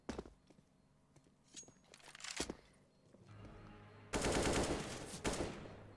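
Bursts of AK rifle fire in a first-person shooter video game, rapid automatic shots in short strings with a loud sustained burst near the end, alongside faint footsteps and game sounds.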